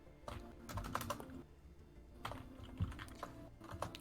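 A pet cat steps across a computer keyboard during a Stellaris game session, producing clusters of irregular key clicks and clacks in uneven bursts, fairly close and moderately quiet, with no talking.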